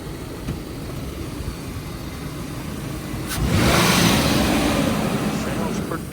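A car being sold at a police auction runs steadily, then its engine rises in a short rev as it is put in gear and moved forward, heard from close by over outdoor background noise.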